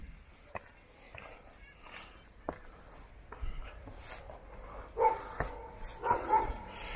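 A dog in Valparaiso, Chile barks a few times, faint and at some distance, with short yips toward the end amid quiet street ambience and light background voices.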